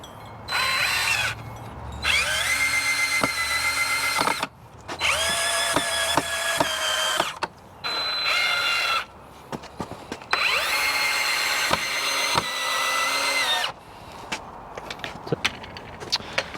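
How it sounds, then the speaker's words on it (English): A power drill drives long decking screws into wooden pallets in repeated loud bursts of whirring, each run lasting a second or two, separated by brief pauses and clicks. "I'm just using some long decking screws to secure the pallets to one another."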